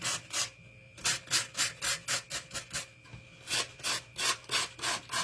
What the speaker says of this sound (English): I guess a sanding block would be better